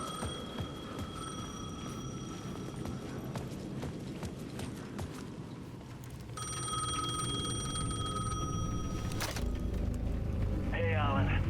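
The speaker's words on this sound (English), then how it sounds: "The payphone at the edge of the plaza was ringing again." A payphone at the edge of a plaza in the video game Alan Wake 2 rings repeatedly in regular bursts over a busy ambient background, growing louder and more insistent toward the end.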